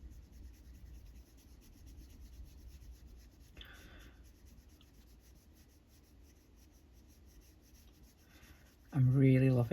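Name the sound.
colouring with Inktense pencils on paper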